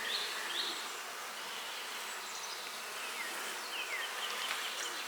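A honeybee colony buzzes inside an open hive in cold weather, a dense continuous hum close up, with individual bees zipping past now and then.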